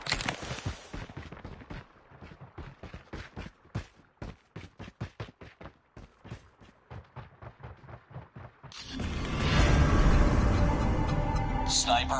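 Rapid sniper gunfire from a Call of Duty Mobile team deathmatch: a long run of sharp, evenly spaced shots, followed by a louder, dense burst of battle noise near the end.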